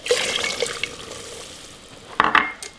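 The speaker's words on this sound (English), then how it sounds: "this is the fun part because it's going to sizzle real loud" Jack Daniels whiskey poured into a hot glaze pot gives a brief hissing sizzle, bright and crackly, fading over a couple of seconds, followed by a few clinks of metal near the end.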